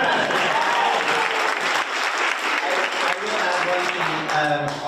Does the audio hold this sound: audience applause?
yes